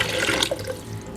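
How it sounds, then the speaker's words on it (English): Two cups of water poured into a blender for a vegan cheese sauce, making a brief, close splashing trickle that fades after about a second. "And to that, I'm going to add 2 cups of water."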